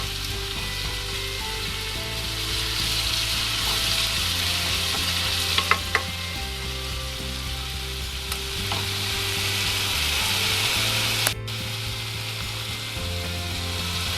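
Ginger garlic paste sautéing in a pan for chicken masala, with a loud continuous sizzle and frequent stirring scrapes against the metal throughout, close up and without talk.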